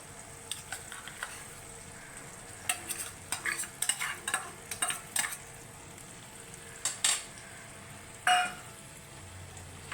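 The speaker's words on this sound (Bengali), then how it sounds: "একটু মিশিয়ে নেব।" Boiled potatoes being stirred into a potol dolma filling, with a spoon scraping and clinking against the pan in irregular bursts over a faint background sizzle, close by and moderately loud.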